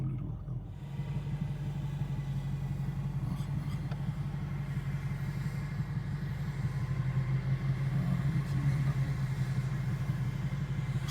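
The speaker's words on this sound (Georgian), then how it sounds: "უკან მოდის მანქანა" A car approaches from behind on a mountain road near Bakuriani, its engine giving a low, steady rumble that grows slowly louder over several seconds.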